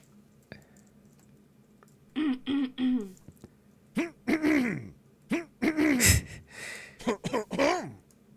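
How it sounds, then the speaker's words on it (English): A voiced throat-clearing sound from a Stanley Parable–style video game, a few guttural, rasping hums and grunts repeated in short bursts over quiet background clicks. "press R to clear your throat"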